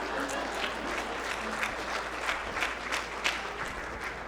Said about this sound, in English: Oh, you clap for her.